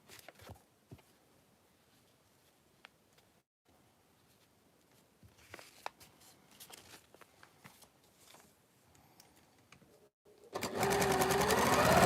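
A sewing machine runs steadily and loudly near the end while stitching the seams of a Christmas wall hanging quilt, after a long stretch of quiet handling and fabric rustling.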